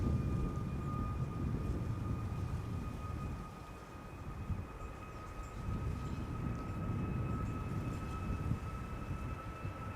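A KLM Boeing 737 Max 8, registration PH-TFU, first flown in June 2021, departs the Polderbaan runway at Schiphol with a steady, loud engine roar and a sustained high whine, continuous throughout without talk.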